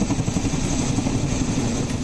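Indian Army Mi-17 and Chinook rescue helicopters during monsoon flood rescues near Kedarnath, Uttarakhand, a steady loud rotor and engine drone that continues without a break.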